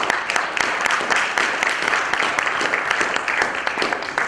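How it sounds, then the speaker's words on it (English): A conference audience of students claps steadily and fairly loudly throughout, a dense patter of many hands with no speech over it. "Can we make some noise? Can we clap?"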